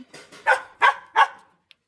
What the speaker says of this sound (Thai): มันเห่าแมว